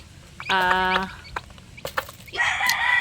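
Backyard hens cluck and call near the listener, a loud harmonic squawk followed by scattered clucks and a second strained call, with no talking.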